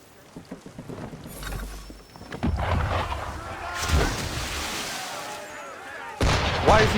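Heavy booming blasts of ship cannon fire in Assassin's Creed 3, several deep impacts over a rumbling storm-like wash of wind and sea, with one loud report near the end.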